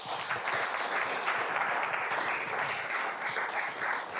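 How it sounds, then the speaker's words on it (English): Audience applause at a TEDx talk, a steady wash of many hands clapping that holds at an even level throughout without pause. "And that right there deserves our round of applause."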